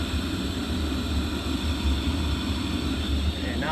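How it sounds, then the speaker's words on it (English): Steady loud broadband roar of a wind tunnel fan running up toward 1000 RPM, a constant droning rush with low rumble throughout, no clear pause. "So now the fan speed increasing, like the fan speed increasing until is close to set fan speed 1000 RPM."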